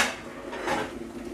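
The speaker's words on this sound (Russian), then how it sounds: "Так, как всегда, достаю свой любимый тазик." A plastic basin pulled out of a kitchen cupboard, giving a brief hollow clatter and knock up close, followed by lighter rattling movement.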